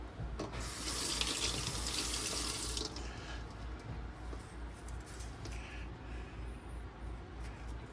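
Water runs steadily from a tap into a sink as a blade is rinsed under it, splashing louder for a couple of seconds and then settling into a softer stream.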